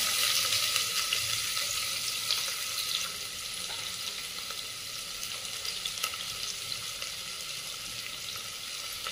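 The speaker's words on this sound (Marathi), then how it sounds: "कांदा चांगला परतून घ्यायचा आहे." Vertically sliced onion fries in oil with bay leaf, cinnamon, cloves, peppercorns and asafoetida, a steady close sizzle that softens slightly partway through, with no talking.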